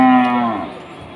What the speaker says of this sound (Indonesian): Selain yang ini juga ada sapi-sapi pegon.